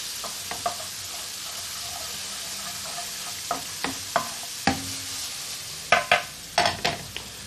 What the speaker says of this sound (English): Just going to sizzle that off for about 40 seconds on a highest heat, making sure you don't burn it.